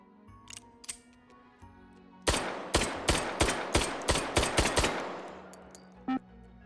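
An Automag 2 pistol fires in the VR game Hot Dogs, Horseshoes & Hand Grenades: a few soft clicks and then a quick string of about nine sharp, close shots in uneven rhythm, each with a short ringing tail.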